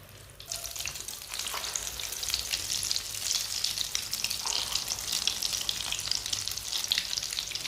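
Egg-dipped aloo tikki sizzle steadily in hot oil, a dense continuous frying hiss that swells just after the start and holds close and loud throughout, with faint occasional scraping and no talk.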